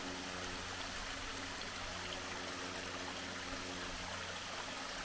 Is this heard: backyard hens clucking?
no